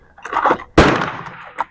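A semi-automatic M16A1 rifle fires Brazilian 55-grain full metal jacket rounds: one sharp, loud close-range crack with a ringing tail, plus a smaller clack near the end and some handling noise before it.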